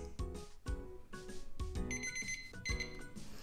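A kitchen timer's alarm beeps repeatedly in quick ringing bursts, loud and close, with no voices.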